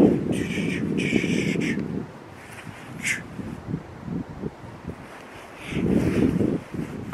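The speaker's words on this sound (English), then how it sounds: "This wind is doing craziness to me right now." Strong wind buffets an outdoor microphone in steady gusts, loud rumbling bursts rising and falling with a few crow caws in the distance.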